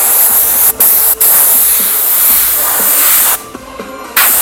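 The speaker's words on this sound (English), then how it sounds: "Maybe even spray a little bit over the black there." An airbrush sprays paint onto a Fortnite-themed hat as a loud, steady hiss, cut by two short pauses early on and one longer break near the end before spraying resumes.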